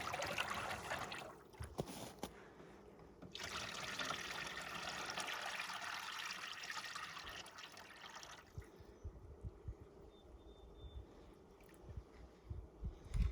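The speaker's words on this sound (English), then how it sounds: "I'm going to go ahead and pour in my feed" Liquid bee feed pours in a steady gushing stream for several seconds while hiving a package of bees, then trickles off into faint drips and small knocks.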